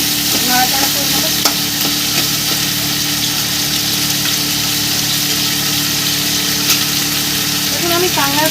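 Crab pieces fry lightly and get stirred in a pan for a tangy-spicy crab dish, giving a steady close sizzle with occasional scraping from the stirring. A low hum sits underneath, and a voice speaks over the cooking.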